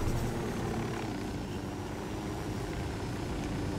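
Helicopter in the video game Ghost Recon Wildlands, a steady low rotor and engine drone held at an even level throughout, with no speech over it.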